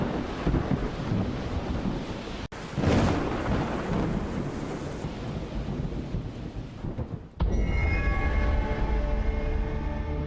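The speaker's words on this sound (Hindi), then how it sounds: "बारिश के छींटे आ रहे हैं।" Steady rain and rumbling thunder from a storm drift in through an open window, a continuous heavy wash with a sharp crack partway through, ending with a low rolling rumble.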